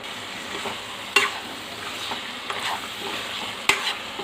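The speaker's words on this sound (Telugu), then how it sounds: "కొత్తిమీర వేసానండి, కలుపుకుందాం" Chicken curry with tender tamarind leaves and fresh coriander is stirred in a pan, giving a low steady sizzle broken by two sharp spoon knocks and softer scraping, close by and without speech.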